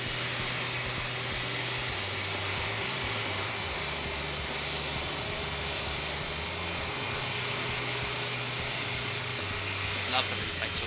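Airbus A300 jet engines in the X-Plane 11 flight simulator, a steady loud drone with a high whine on top, heard continuously and alone.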